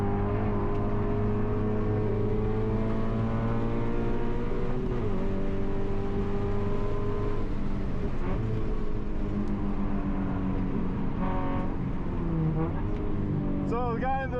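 A Lamborghini Huracan EVO RWD screams around a race track, its engine loud and continuous with rising and falling pitch through gear changes and corners, heard from inside the car.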